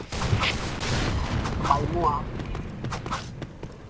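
Video game gunfire crackles in bursts under continuous excited talking, with rattling shots and faint footsteps mixed in.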